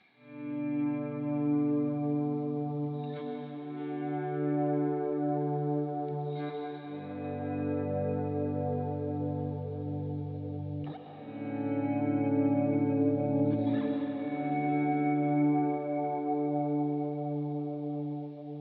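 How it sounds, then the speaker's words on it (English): Electric guitar chords played through a worship pedalboard's auto swell effect, each chord fading in smoothly with no pick attack, sustaining thick and distorted with chorus and echo; four swelled chords in succession, no talking. "Another one that I really like is the auto swell feature."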